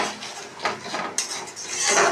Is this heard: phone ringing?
no